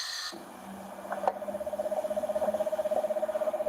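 An eastern screech owl gives a steady, rapid tremolo trill, a long even whinny of pulsed notes that starts softly and holds at moderate volume without voices, after a brief burst of other noise at the start.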